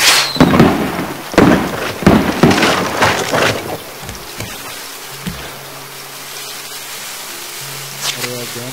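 Rapid crackling bursts of Diwali firecrackers in the video game Raft, loud and dense early on, then thinning to scattered pops over a steady low hum.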